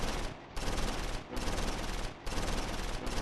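Machine gun fire aimed at a hidden machine gun team in the WWII strategy game Close Combat IV, in several long dense bursts broken by brief pauses, loud and close with no talk.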